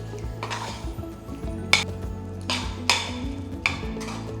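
Carrot halwa mixed with khoya in a pan: a spoon scrapes and clinks against the metal in several distinct strokes over a soft, faint sizzle, with no talking.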